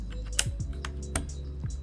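A keycap remover pulls keycaps off a budget mechanical keyboard, giving several sharp plastic clicks and snaps in an irregular rhythm, close and fairly loud, with no one speaking.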